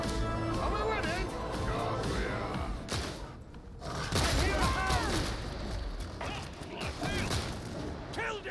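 Laspistol hipfire shots in the video game Darktide, a string of sharp energy-weapon blasts with mechanical clatter and crashes, heard loud and close under steady voices talking throughout.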